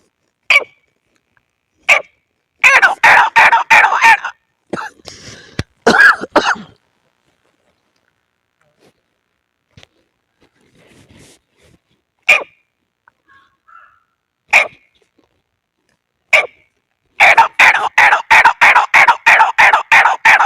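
A man vocally imitates a grey partridge (teetar) call, producing several bursts of rapid, repeated clucking notes separated by short isolated clicks and near-silent gaps, close and fairly loud.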